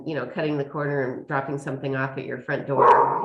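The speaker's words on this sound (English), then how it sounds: "that's my dog." A dog barks and yips repeatedly, close by and loud, over a person talking during an online garden talk.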